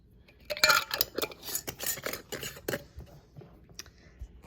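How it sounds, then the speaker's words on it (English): Metal lids set onto hot glass jars of peach jam, a quick run of light clinks and clatters, close and fairly quiet, with no talking. "I'm going to put my lids on these jars so I can kind of show you"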